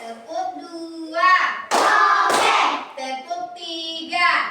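A clapping song with sung voices, broken in the middle by a short burst of hand claps, two or three sharp bursts close together, loud and near, before the singing resumes.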